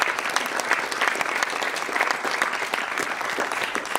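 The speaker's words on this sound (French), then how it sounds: "On peut l'applaudir aussi." An audience applauds for an absent poet at a poetry reading: a dense, steady clapping from a crowd throughout, fairly close and even.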